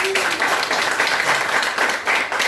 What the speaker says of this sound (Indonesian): Coba tepuk tangan sekali semuanya.